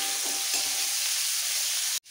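Cauliflower florets sizzling in hot oil in a pan: a continuous, even, close frying hiss with faint stirring, ending in a sudden break.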